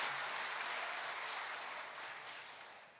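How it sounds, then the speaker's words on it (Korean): A Korean church congregation at an evening revival service claps together in sustained, even applause. It is moderately loud and tapers slightly toward the end, with no talking heard. "우리 박수 한번 해주십시다."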